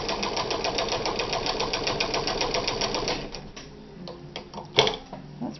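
An old Deluxe sewing machine stitching a long seam at long stitch length, a fast steady mechanical chatter running for about three seconds and then slowing into scattered ticks and clunks as it stops.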